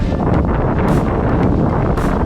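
Strong wind by Lake Ontario buffets a cyclist's microphone, making a loud, steady roaring rumble that fills the whole stretch with no speech.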